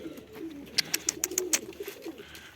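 Pigeons coo in a low, steady murmur, with a quick run of sharp clicks or flutters partway through.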